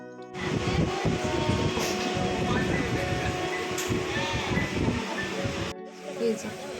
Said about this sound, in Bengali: আমাদের ট্রেনটাও হাওড়া স্টেশন থেকে ছেড়ে দিয়েছে